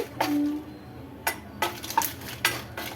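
Jackfruit seeds being roasted in a pan, heard as a few sharp stirring scrapes and knocks of a spoon against the pan at irregular intervals over a faint background hiss.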